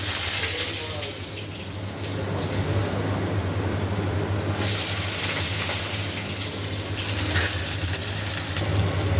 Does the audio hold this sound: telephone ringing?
no